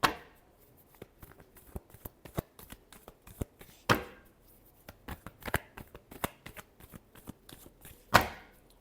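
Tarot cards are shuffled by hand at close range, giving a steady run of crisp riffling clicks and soft slaps with a few louder snaps, quiet and without any voice.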